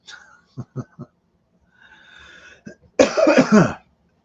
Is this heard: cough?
yes